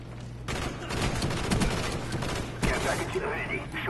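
Gunfire from an M16 rifle in a first-person shooter game: a steady rapid burst of shots with sharp transients, with a second loud burst near the end, all fairly close and dense.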